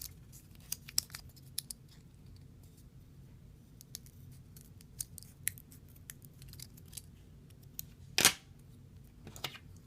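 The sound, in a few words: cutting a strip of Velcro with scissors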